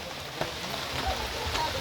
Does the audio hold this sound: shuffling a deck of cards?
no